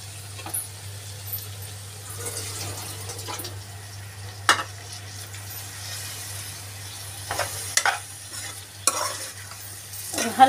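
Lotus stem and potato curry is stirred gently in a pan, with soft scraping and occasional sharper knocks of the spoon over a low steady hum, close and intermittent.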